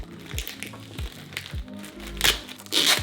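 Plastic packaging around a camera accessory bought from AliExpress crinkles and crackles as it is unboxed, a few short rustling bursts and soft crunches up close, quiet and intermittent.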